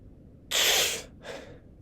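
A person imitates a patient straining to inhale, making a strong, breathy gasp followed by a shorter, softer second intake of air, close and otherwise quiet.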